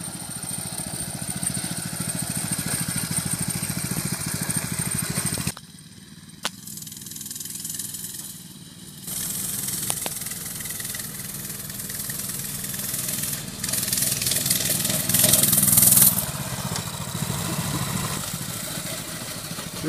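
Coleman CT200U trail bike engine chugging along slowly over a gravel church lot, a continuous mid-pitched engine drone with a brief dip and some rising revs near the end, close and fairly loud, with no talk.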